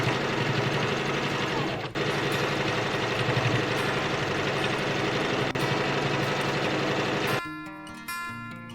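A sewing machine stitches the layers of a quilt collar with a quarter-inch seam, its steady motor hum running continuously for about seven seconds before stopping abruptly, close and moderately loud.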